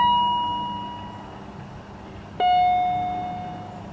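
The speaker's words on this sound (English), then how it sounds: "it actually sends all of the signals down to the speaker in the driver's footwell and asks it to make all the noises that it possibly can" BMW E39 on-board computer gong test through the driver's footwell speaker: a clear electronic chime fades slowly, then a second, brighter gong tone strikes and rings out.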